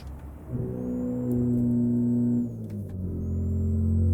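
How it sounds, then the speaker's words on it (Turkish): Toyota Hilux engine droning steadily in Euro Truck Simulator 2 as the pickup slides on a snowy road, a loud mid-pitched hum that rises, dips briefly, then settles again with no talk. "Aha araba kayıyor dur."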